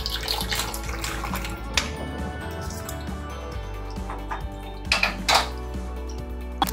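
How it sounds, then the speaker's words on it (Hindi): Sweet golgappa water is strained through a sieve, pouring and trickling with steady watery splashing alongside clinks and knocks of utensils and pans, louder bursts near the end. "मैं छन्नी की मदद से इसको छानूंगी।"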